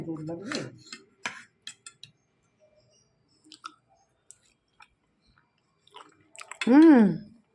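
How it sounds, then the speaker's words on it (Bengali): Someone bites into and chews a hardened choshi, a Bengali rice sweet, during a Makar Sankranti meal; a short burst of chewing comes first, then scattered small clicks, then a loud voice near the end. "দেখি তো চষিটা আগে খাই। কি শক্ত গো, শক্ত হয়ে গেছে।"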